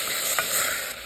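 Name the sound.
sautéing aromatics, onion, tomato and pork in a pan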